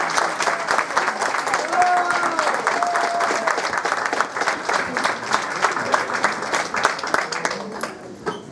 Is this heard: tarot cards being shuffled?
no